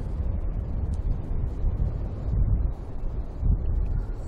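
Strong sea wind buffets the microphone beside the Searoad Mersey ferry near Devonport, a loud, continuous low rumble that swells and eases in gusts, with no voices.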